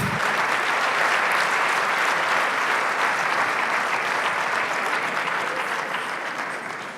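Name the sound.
applause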